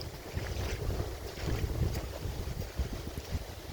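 Strong wind gusts over open water near a boat, roaring steadily with buffeting noise against the microphone and a faint wash of waves beneath, no voices.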